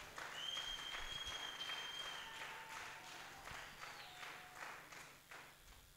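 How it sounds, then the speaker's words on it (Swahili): A church congregation claps for Jesus during a Swahili sermon, a dense, steady applause that fills the room for the whole stretch, with high whistle-like tones rising over it. "Pigia Yesu makofi mazuri"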